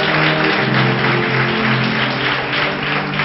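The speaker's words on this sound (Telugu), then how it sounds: "చప్పట్లు కొట్టండి." An audience claps together in a continuous, loud wash of applause that stays even and unbroken throughout.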